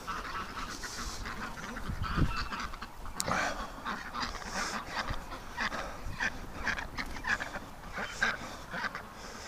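A duck moving quickly at a creek in winter, with scattered short calls and splashy bursts over steady outdoor background noise, fairly close and moderately loud.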